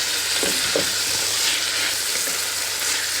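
Pork and onions fry hard in a pan with a loud, dense, continuous sizzle close up. A few soft stirring scrapes sound near the start, and no one speaks.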